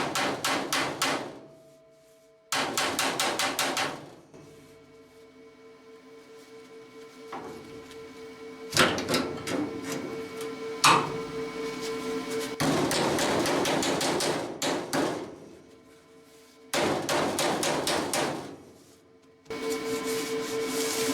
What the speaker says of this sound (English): I think I want to do just a little bit of massaging with the hammer.